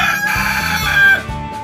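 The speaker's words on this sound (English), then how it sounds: "Now, it's time for the chickens." Chickens cluck and a rooster lets out a loud, close cock-a-doodle-doo, the crow and clucking overlapping in a short burst with no people talking.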